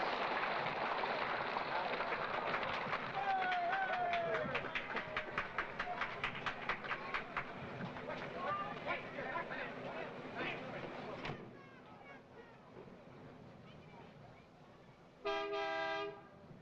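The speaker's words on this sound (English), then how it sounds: "The train is moving now into place for loading" A 1959 Disneyland train moves into place for loading amid a lively crowd, with rhythmic clatter and a brief loud horn toot near the end.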